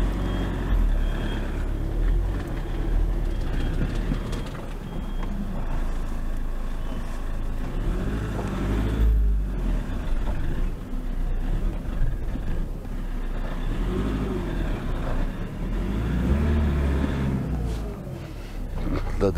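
A car stuck in mud revs its engine hard, a loud, continuous roaring drone with surging bursts as it strains to drive out, while people talk over it.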